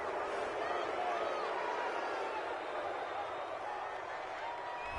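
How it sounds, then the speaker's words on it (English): A large stadium crowd at a Jets versus Broncos NFL football game reacts to a penalty call with a steady, broad roar, heard beneath a commentator's voice. "this crowd does not like that call"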